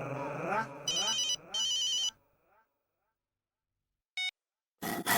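A telephone rings in two loud electronic bursts, with a short beep tone later and a voice speaking at the start and end.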